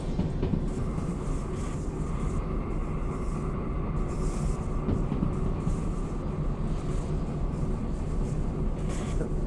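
A train in the Derail Valley railway game gives off a low, steady rolling rumble with a faint hiss, continuous and fairly quiet throughout, with no speech.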